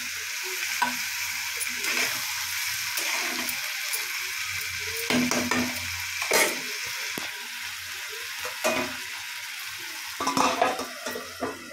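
Pointed gourd and potatoes frying in a pan after a splash of water, a constant close sizzle broken by several sharp spatula scrapes and clinks against the pan.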